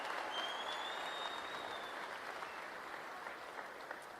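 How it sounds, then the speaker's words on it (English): Continuous, fairly distant applause from an audience at a political rally in Windsor, Ontario, fading slightly over the seconds, with a faint high whistle near the start. "Give her a round of applause."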